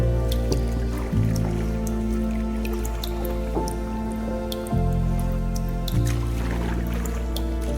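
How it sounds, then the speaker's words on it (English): Water in an underground river inside a cave: steady, close drips and plops ring against a low, continuous liquid wash, with small splashy bursts scattered throughout and no voices. "An underground river flows slowly, curving along the cave interior and maintaining a stable water level throughout the year."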